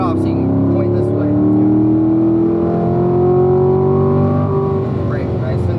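A Corvette being driven on the Spring Mountain Motorsport Park race track, its engine note loud and continuous as it rises and falls with throttle, lifting and braking, while an instructor talks over it throughout.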